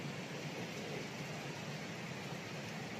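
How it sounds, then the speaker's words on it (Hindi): Steady, even hiss of rain falling outdoors, constant and unbroken for the whole stretch with no voices. "बाहर हो गई है बारिश शुरू, ये देखो"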